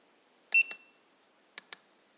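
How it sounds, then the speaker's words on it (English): Short electronic beeps from a LAUNCH CRP123 V2.0 handheld automotive scan tool: a brief double chirp, then two more quick bleeps a second later, close and clear over a quiet room. "Beeper, we can turn off."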